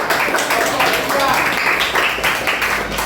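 Students in a classroom give a short round of applause, dense clapping running for a few seconds with voices murmuring underneath.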